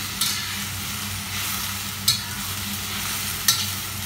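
Kangkong stir-fries in oil with garlic, a steady sizzle broken by a few sharp utensil scrapes and clinks against the pan at irregular intervals.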